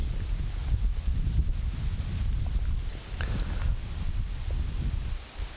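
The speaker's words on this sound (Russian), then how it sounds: "Порывы ветра довольно сильные налетают." Strong wind gusts buffet the microphone on a lakeshore fishing spot, a constant low rumble that swells and eases with faint rustling on top.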